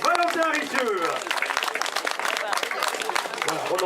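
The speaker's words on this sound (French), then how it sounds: "on applaudit Valentin Richeux" Crowd applause breaks out for the winner of a cyclo-cross race at Saint-Thurial, steady clapping over the full stretch while a voice talks through it at times.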